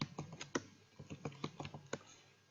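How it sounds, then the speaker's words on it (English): Someone types on a computer keyboard in a clear run of quick, irregular key clicks, close and fairly quiet, with no talking. "Just click in the text box and start typing."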